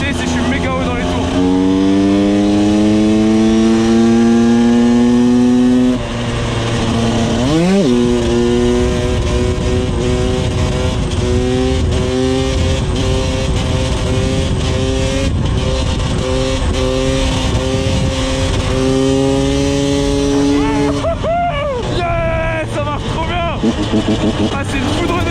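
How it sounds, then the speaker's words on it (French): A motorcycle screams at very high revs, its engine note climbing and holding in long sustained pulls with brief drops between shifts, loud and close, with someone talking over it. "Ah c'est une foudre de guerre cette moto."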